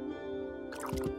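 Cartoon pouring effect for lemon water filling a glass, a brief bubbly gurgle with a couple of liquid plops near the end, heard over a sustained musical tone in a children's animation.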